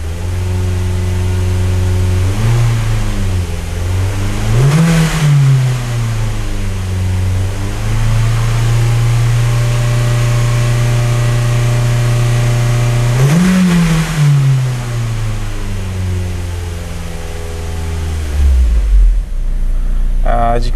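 A Ford Focus engine, one with an EGR flow fault, runs steadily while warming up at close range, its hum rising in pitch twice, then dropping as it winds down near the end.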